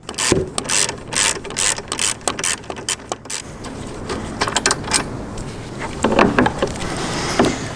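A ratchet cranks off a bolt on a V-Strom 800 motorcycle's side stand bracket, bursts of rapid clicking strokes in quick bouts with short pauses, close and loud.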